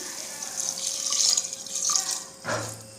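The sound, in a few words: one cup of water poured into biryani pot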